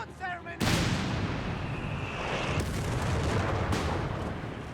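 A Stuka dive bomber's blast and a mine explosion in Company of Heroes 3 hit as one sudden, heavy boom, followed by a long, loud, rumbling wash of noise with further thuds inside it.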